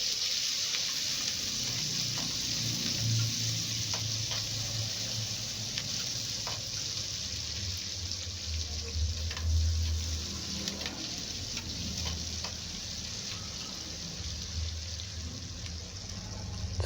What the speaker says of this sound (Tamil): பிறகு பெரிய வெங்காயம், பச்சை மிளகாய் நறுக்கிய துண்டுகளை சேர்த்து நன்றாக